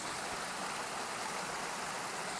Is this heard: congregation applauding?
no